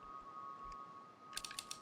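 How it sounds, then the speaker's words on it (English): Faint computer keyboard typing in The Novelist video game, a quick cluster of soft clicks near the end over a steady low hum and quiet room tone. "Yep, keep on typing, Dan."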